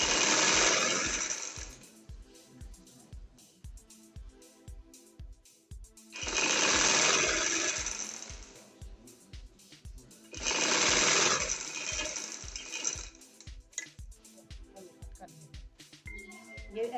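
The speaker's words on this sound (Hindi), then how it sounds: "इस तरह हम सिलाई लगाते जाएंगे।" Stitching an angrakha shirt on a sewing machine produces three loud bursts of rapid needle clatter, each about two seconds long, separated by quieter stretches of handling noise and soft sounds.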